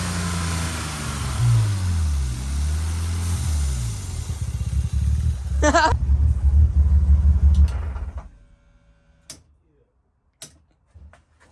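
The engine of a 1999 BMW 323is E36 with a broken throttle cable runs loud, rumbling and wavering while the throttle is stuck open. It then shuts off, leaving near silence broken by a few sharp ticks and clicks.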